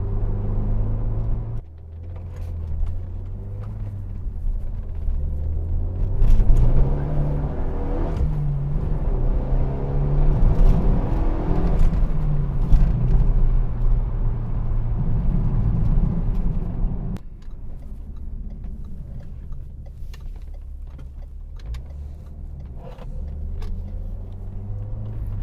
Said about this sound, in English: It's not scary to put your foot flat in this car.